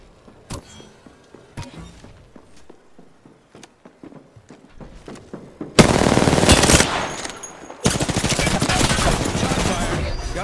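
Gunfire in the Apex Legends battle royale game: scattered single shots and footsteps at first, then loud sustained automatic bursts roaring continuously.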